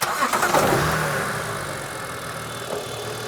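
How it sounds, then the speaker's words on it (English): A car engine cranks and catches, then settles into a steady running rumble, loud and close, with no voices. "Shall we start it up and have a listen?"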